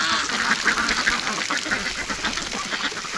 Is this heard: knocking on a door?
no